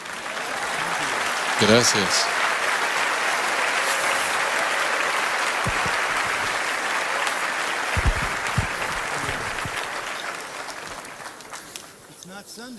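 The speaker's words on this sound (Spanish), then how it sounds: "Now you can clap." An audience at a conference session breaks into sustained applause, broad and even, with a brief spoken thanks near the start and the clapping tapering off toward the end.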